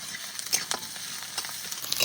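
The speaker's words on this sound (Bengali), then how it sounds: "এবার একটু পেঁয়াজটা ভেজে নেবো।" Sliced onions fry in hot oil with nigella seeds and split green chilies, a close, crackling sizzle with sharp pops and the scrape of stirring.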